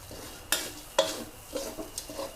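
Galangal and chili paste ingredients dry-roasted in a pan, a few sharp spatula scrapes and clacks against the metal over a faint sizzle, close and brief.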